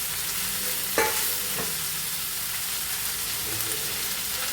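Spinach leaves stir-fry in a hot pan for cheera thoran, a steady soft sizzle with a couple of sharp scraping stirs near the start, no voices.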